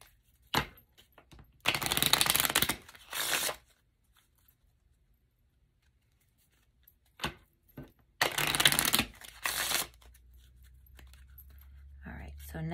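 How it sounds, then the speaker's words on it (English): Playing cards being shuffled in two quick riffling bursts, close and crisp, separated by quiet pauses with a faint tap between them. "Give these a shuffle."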